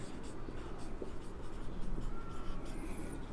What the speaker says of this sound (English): I will write one point here